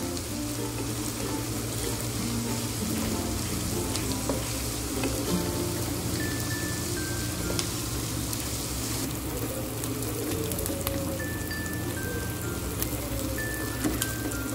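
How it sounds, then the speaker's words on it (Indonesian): Spice paste sautéing in a pan over low heat, a continuous dense sizzle and crackle that stays close and even throughout, with no voices. "Akan saya tumis sampai bumbunya ini harum dan layu."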